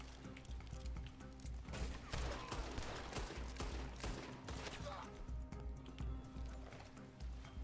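Gunfire in Red Dead Redemption 2, a rapid, dense barrage of sharp cracks that overlap in busy bursts, loud and close, with horse hoofbeats and a voice woven underneath.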